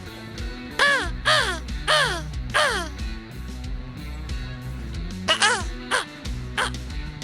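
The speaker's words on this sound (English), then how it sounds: "I like talking to the crows" Crows call at Indian/Celina Lake campground in Hoosier National Forest, a run of four loud, harsh caws followed by a short burst of three more, clear against low steady background noise.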